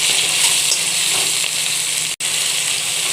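Garlic and onions fry in a pan with a loud continuous sizzle and light stirring scrapes, broken by a brief sharp cutout near the end.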